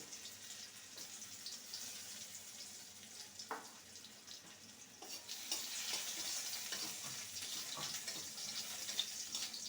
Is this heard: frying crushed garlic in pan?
yes